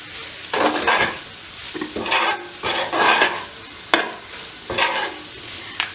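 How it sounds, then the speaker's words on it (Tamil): Deer meat pirattal sautéed in a pan gives rhythmic stirring scrapes that each lift a surge of sizzle, with one sharp clink of the utensil against the pan midway. "வதக்கி எடுப்போம்"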